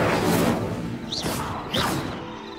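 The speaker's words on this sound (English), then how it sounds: "Incendio! The flames make the pyre sink." Incendio fire spell cast onto a pyre in Hogwarts Legacy, heard as a loud rushing burst of flame with two distinct whooshing swells over a continuous roaring crackle.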